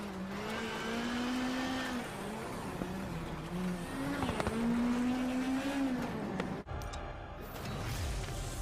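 Rally cars racing in a video game, a continuous engine drone with rising and falling revs as gears shift, steady and fairly loud, with a brief dropout near the end before the engine returns.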